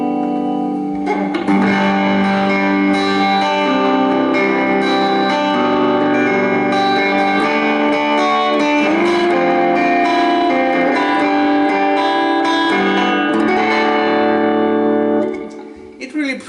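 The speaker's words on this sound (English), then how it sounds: "Now this is the Dan Electro Spring Reverb. It's my first pedal and it really works with this amplifier." An electric guitar plays through a Danelectro spring reverb pedal into a Vox AC4TV amplifier, ringing chords and notes with a splashy, echoing tail, loud and close, fading out at the end.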